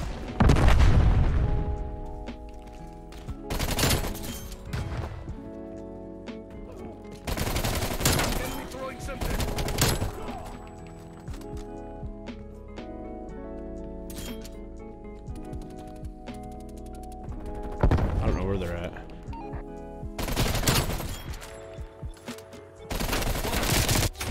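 Repeated bursts of gunfire in Call of Duty Cold War multiplayer, close and loud, several shotgun-style blasts spaced through the stretch over constant game music and effects, with quieter gaps between volleys.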